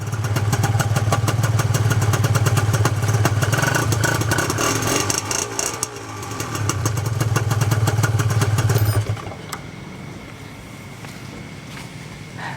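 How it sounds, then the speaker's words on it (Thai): A Honda NSR 150 SP two-stroke motorcycle engine idles loudly with a fast, rattly, buzzing beat, dips briefly, picks back up, then cuts out, leaving quiet background. "อาจจะมีเสียงเครื่องใส ๆ นิดนึงนะครับ"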